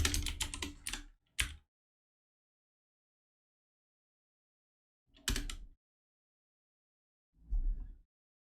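Typing on a computer keyboard while writing Ruby code: a rapid burst of clicking keystrokes, a short pause, then two brief clusters of taps separated by silence, close and clear.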